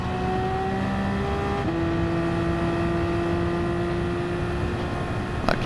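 Race car engine in a video game at Interlagos, a steady sustained drone with a brief dip at a gear shift to third before the tone settles and carries on alone.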